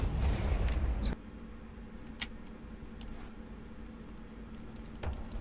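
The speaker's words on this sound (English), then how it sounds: "we've got one more round in the chamber. Let's just fire it." A tank gun fires a round in a video game with a heavy, rumbling boom that rolls off after about a second. A few sharp clanks and mechanical clicks follow over a low engine drone.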